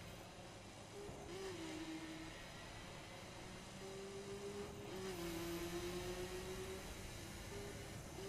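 A car in The Crew racing game accelerates with a steady engine drone whose pitch climbs and glides, holding at a moderate level throughout with no talk over it.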